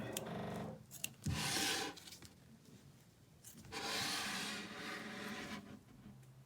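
Scissors rasp and crunch through thick felt backing in two longer cutting strokes, close and fairly quiet, with softer rubbing and handling noises between them.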